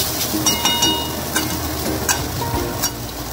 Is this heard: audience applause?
no